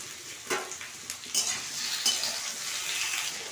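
Ginger and tomato are stirred and fried in an oiled pan, a steady sizzle with a few spoon scrapes and clinks against the pan.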